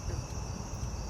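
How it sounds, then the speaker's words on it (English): Faint, steady high-pitched insect chirping, like crickets, sits over a low background hum. "Sounds of crickets and birds rang through."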